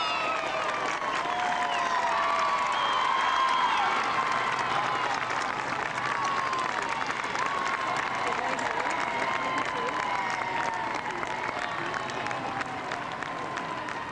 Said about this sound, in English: And what a cheer he's getting